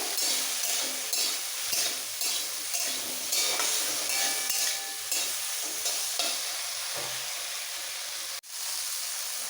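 Okra sizzles loudly in a pan while being stirred in a steady rhythm of scraping strokes, with hissing steam throughout and a sharp clank near the end. No voices are heard.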